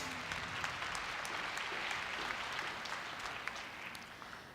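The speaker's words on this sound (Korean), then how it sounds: "다시 한번 큰 박수 부탁드립니다" Steady applause from a large crowd at a Korea University entrance ceremony after a scholarship award, distant and even, fading slightly toward the end.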